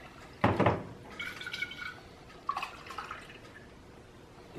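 Woodchuck hard cider pours into a glass, a short gurgling splash followed by a lighter trickle and fizz at moderate volume, with quiet room noise and no talking.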